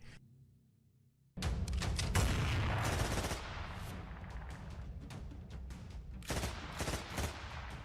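After a quiet moment, a loud burst of rapid gunfire erupts at a crossroads as a gunman fires on two men, then continues as repeated sharp cracks and echoing shots.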